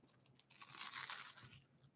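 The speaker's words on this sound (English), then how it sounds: "I could hear you crunch into that over here." Crunchy bite into toast, a dry crackling crunch building to a loud burst in the middle and trailing off into smaller crackles, close and alone.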